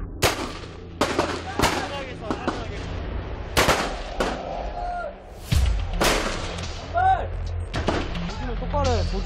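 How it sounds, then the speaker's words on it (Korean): Rifle fire at a military training firing range: a series of sharp, loud cracks, single and in quick pairs, irregularly spaced with echoing tails and some voices in the background. "사격 개시. 사격 개시."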